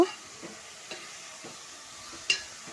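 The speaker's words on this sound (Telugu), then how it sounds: "గోల్డెన్ కలర్ వచ్చే వరకు ఫ్రై చేయాలండి ఇది ఎంత ఫ్రై అయితే కర్రీ అంత టేస్ట్ బాగుంటుంది" Fish pieces already seasoned with salt and chili powder frying in a pan for an Andhra-style fish curry, with a soft steady sizzle and a few light scrapes of stirring, one sharper clink near the end, no voices.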